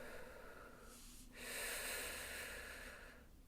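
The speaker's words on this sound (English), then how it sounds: "I'm in the middle of a panic attack. Which is why I'm trying to breathe." Heavy, ragged breathing from someone alone in the middle of a panic attack: a sharp, sudden inhale followed by a long, close, hissing breath, quiet and without talk.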